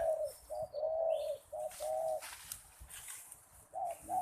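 Several doves coo in short repeated phrases, close by, with brief pauses between calls and faint chirps in the background.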